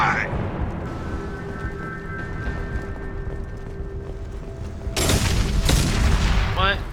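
Gunfire in Mass Effect 2: a low droning backdrop and faint tones give way to a loud burst of sharp shots and booming impacts late in the clip.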